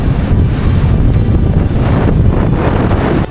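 Loud, continuous monsoon wind buffeting the microphone at Korigad fort in a heavy low roar that never lets up, with no voices.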